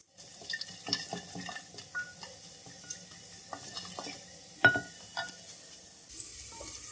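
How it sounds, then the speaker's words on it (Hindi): Whole spices, black cardamom, cinnamon sticks, black pepper and cumin, fry briefly in a pot for chicken biryani, giving a faint sizzle under the scrape and clink of a stirring spoon against the metal. "1 मिनट के लिए हम इसको फ्राई करेंगे"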